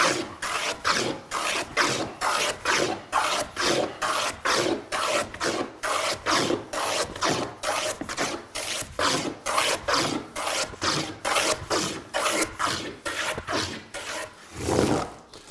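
A hand plane cutting across the grain of rough wood stock makes a quick, rhythmic series of close, crisp shaving strokes, each a short, rough rasp in a steady back-and-forth pattern.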